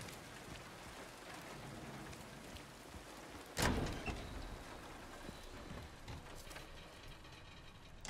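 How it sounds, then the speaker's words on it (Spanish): Steady rain falls in the Silent Hill 2 Remake game world, a soft continuous patter with one brief louder rumble partway through and no voices. "10 de mayo, sigue lloviendo."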